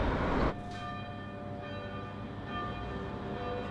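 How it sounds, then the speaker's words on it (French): A loud church bell strike at the start, then long sustained ringing tones slowly decaying, with a steady hum of resonance and no talking, in the Gruyère region of Switzerland. "Il y a des cloches tout le temps hein, dans ce pays."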